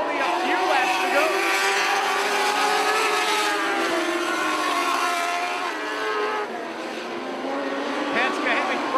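Mini sprint race cars roar around an oval track in lap traffic near the end of a race, a steady loud engine drone with shifting pitch under a commentator's voice.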